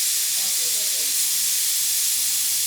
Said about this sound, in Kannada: 10 ವಿಸಿಲ್ ಬಂತು. ಕುಕ್ಕರ್ ಓಪನ್ ಮಾಡೋಣ.